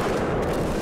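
Gunfire in the video game Killzone 3, a dense, roaring barrage of weapon blasts and booming impacts that fills the whole moment, loud and continuous with no gaps.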